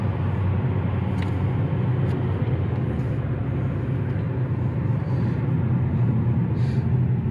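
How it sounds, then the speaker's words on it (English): A 2015 Hyundai Elantra GL 1.8L sedan rolls over a bumpy construction-zone road, heard from the cabin as a steady low road rumble and tire drone with occasional faint knocks from the suspension. "right now we're on a good test of the suspension because this is some construction zone with bumpy roads"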